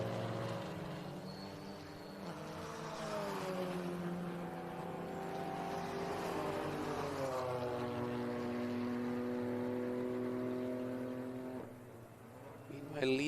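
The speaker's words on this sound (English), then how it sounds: "Antea Racing BMW is already leaving the pits, while this car, 333 Hyundai Dream to Drive, has just arrived to the pits." Race cars in a pit lane at an endurance race in Pärnu, with the Antea Racing BMW pulling out of the pits: steady engine drone with rising and falling pitch, continuous and fairly close, under a commentator's voice.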